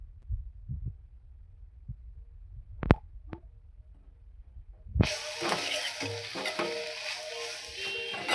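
Coconut filling for karanji is stirred in a hot pan: a few soft knocks over near silence, then a sudden loud sizzling, scraping mix that continues to the end.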